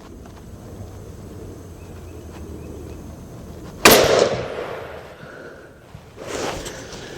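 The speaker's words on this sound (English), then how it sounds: "I'm going to shoot the target on the left" A single sharp rifle report from a Ruger Model 77 MKII in .264 Win Mag fired at a target, loud and close, with a trailing echo over quiet outdoor background.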